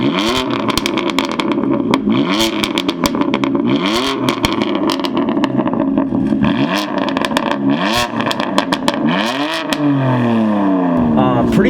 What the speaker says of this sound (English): No, I did not start the car and rev the engine. We're warming it up.